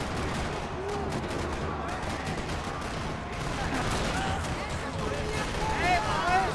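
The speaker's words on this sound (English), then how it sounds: "Another parking lot rattling with gunfire." Sustained gunfire from Max Payne 3 rattles through a parking lot shootout, a dense, continuous barrage of shots with a voice speaking over part of it.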